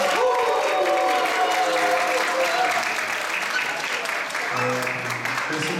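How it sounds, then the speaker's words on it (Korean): Church congregation at a Christmas Eve program clapping and cheering loudly in a sustained burst, with a voice and some tonal sounds briefly rising over the applause. "우리 힘차게 우리 환호의 박수만 하겠습니다."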